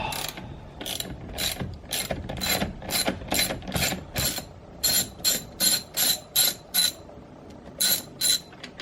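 A ratchet wrench works the nut holding a Saab 9-3 Aero steering wheel, giving close, repeated clicking bursts that settle into a steady rhythm of separate strokes.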